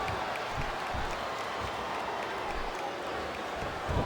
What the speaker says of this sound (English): This capacity crowd is making their opinions known tonight